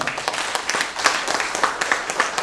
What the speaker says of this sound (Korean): 다시 한 번 더 우리 노웅래 의원님한테 뜨거운 박수 부탁드리겠습니다